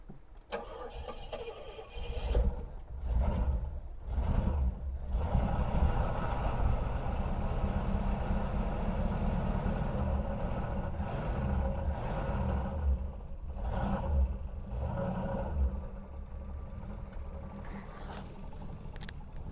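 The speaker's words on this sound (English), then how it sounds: "It's actually idling." A 1973 Pontiac LeMans engine idles after its first start, a rough, low rumbling idle with uneven surges and sputters throughout, heard close and continuous.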